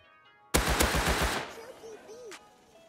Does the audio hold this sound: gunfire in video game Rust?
yes